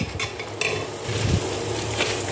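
A steady sizzle of vegetables with turmeric, ginger and green chilli frying in a pan, with occasional scraping and clinking of a utensil stirring close by.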